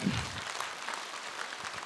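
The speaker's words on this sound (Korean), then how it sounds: "박수로 맞으세요." A crowd at a Buddhist dharma talk event in Busan gives faint, distant applause welcoming the speaker, a soft continuous patter of many hands with a brief bump at the start.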